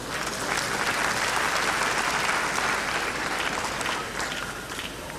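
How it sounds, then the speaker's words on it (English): A graduation audience bursts into sustained clapping at a university ceremony awarding postgraduate diplomas and master's, doctorate and honorary degrees: a broad, even wash of many hands that holds steady before easing a little near the end. "I thought you would clap for yourself."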